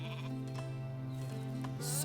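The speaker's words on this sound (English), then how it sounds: "So many fucking sheep." Sheep bleat in the Northgard video game, a drawn-out, wavering tonal bleat over a constant droning hum, with a brief burst of higher noise at the end.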